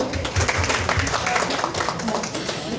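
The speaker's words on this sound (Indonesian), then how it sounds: "Tepuk tangan untuk Bapak Ibu." An audience of schoolteachers at a talk applauds in a steady, close wash of clapping, with voices mixed in underneath.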